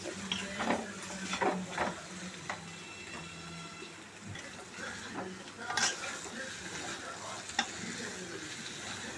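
Chicken fry is being stirred in a pan, with soft sizzling and scraping, faint spoon-on-pan knocks and clinks recurring irregularly throughout, fairly quiet and close.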